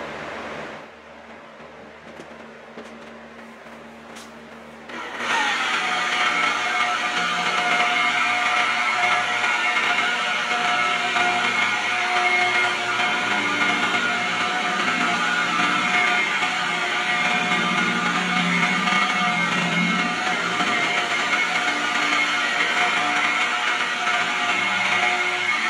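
A rotary buffer spins at 1,000 RPM, pressing its pad against the quarter panel of a Mustang to polish the paint. After a quiet start it starts up and runs with a loud, steady whine and hum for the rest of the clip.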